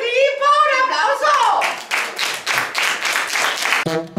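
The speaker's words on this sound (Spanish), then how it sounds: "¡Un aplauso!" A voice speaks, then a group of children claps in a quick, steady rhythm for the teams in a classroom contest, with a voice briefly at the end.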